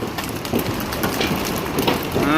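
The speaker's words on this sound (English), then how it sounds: "when the hail hits, it makes big explosions." Big hailstones pelt outside during a storm, a dense, continuous clatter of sharp impacts on surfaces and vehicles, loud and close with no talk over it.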